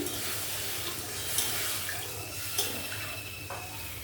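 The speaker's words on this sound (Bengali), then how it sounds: "আর এবার গরম জল দিয়ে দিচ্ছি।" Hot water pours into a cooking pot of potol posto, pointed gourd in poppy seed paste, a soft steady splashing stream running quietly for a few seconds with no talk.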